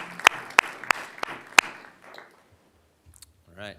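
A handful of sharp, separate claps ring out from a small group at a fire protection district meeting welcoming new firefighter hires, then thin out into near silence.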